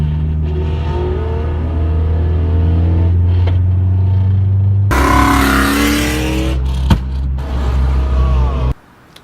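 A stock, non-turbo car engine with a 2-step launch limiter roars loudly and steadily, then revs harder with rough clattering while shooting flames, before cutting off abruptly.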